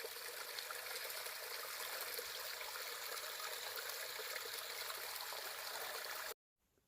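Mountain spring water flows and trickles steadily along a hiking trail, a continuous close rushing wash that holds even throughout before cutting off abruptly near the end.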